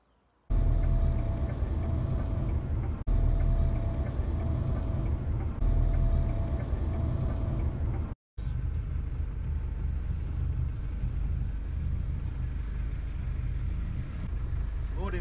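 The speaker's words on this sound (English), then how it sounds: "So it's in the Freelander over to Neil's to go down with him in the truck." A Land Rover Freelander drives along with a steady, loud low engine and road rumble that continues throughout, broken by a brief dropout partway through, with faint talk in the cabin.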